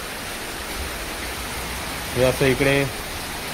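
Heavy rain falling at night in a forest stream area, a steady broadband hiss that holds throughout, with a man's short spoken phrase near the end.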